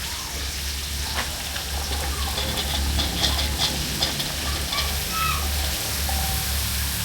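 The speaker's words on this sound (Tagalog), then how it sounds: "Kaya lagyan na yung gulay" Vegetables for Filipino amenudong gulay sautéing in a pan, a steady sizzling and frying hiss with occasional stirring scrapes throughout, close and fairly loud, with no talking.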